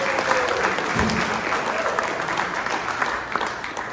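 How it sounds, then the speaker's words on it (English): A crowd applauds steadily at a golf tournament awards reception, dense clapping filling the room at close range, continuing without a break throughout. "A round of applause for this wonderful ladies."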